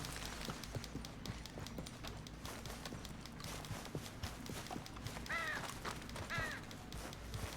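Horse hooves clip-clop at a steady gait in Red Dead Redemption 2 while riding down, set against constant outdoor ambience with crows cawing faintly in the background.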